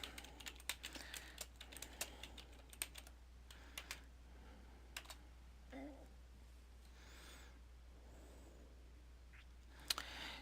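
Someone types a search term on a computer keyboard: quiet, irregular bursts of key clicks over a low steady hum, with a few louder taps and short pauses, no talking.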